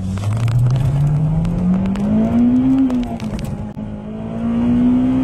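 A Honda Civic Type R accelerates hard from 0 to 60 mph, its loud engine note climbing steadily in pitch through the gears, with a brief dip at a shift before rising again.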